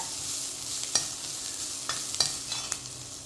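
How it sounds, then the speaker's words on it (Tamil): Steady soft sizzle of onions sautéing in oil in a pan, with a few sharp clinks of a utensil stirring, no talking. "வெங்காயம் இப்படி வதங்கிடணும் நல்லா"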